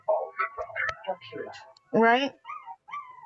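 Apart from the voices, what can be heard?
huskies howling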